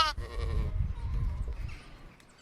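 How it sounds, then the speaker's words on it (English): Goat giving a single short bleat at the start, then only faint, low rumbling background for the rest of the moment. "The goat goes maa."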